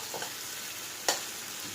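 Tomatoes and onions fry in a pan for a liver dry roast, a low, even sizzle that runs the whole time. A single clear knock or scrape of stirring stands out partway through, and no one speaks.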